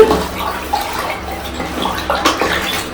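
Water sloshes and swishes steadily up close as dye is stirred into it with a wooden stick while old clothes are being re-dyed, a continuous watery churning with no voices.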